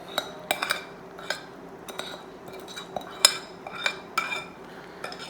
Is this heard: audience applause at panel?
no